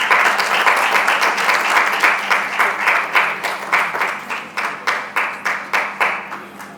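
An indoor audience at a Mother's Day event for a milk bank gives a full round of applause, dense at first and then thinning into slower, distinct claps that fade toward the end.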